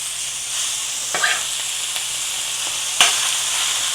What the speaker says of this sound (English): This is ready to cook some meat. Now the advantage of doing this, I get a sear